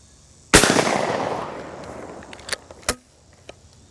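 A Benelli 828U over-under shotgun fires one loud close blast with a long decaying echo, followed by metallic clicks and clacks of the action opening and the shell ejecting.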